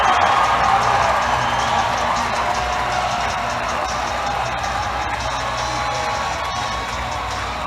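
Arena crowd at a North Bay Battalion vs. Erie Otters hockey game keeps up a loud, sustained cheer after a fight, dense applause and shouting that eases only slightly over the stretch.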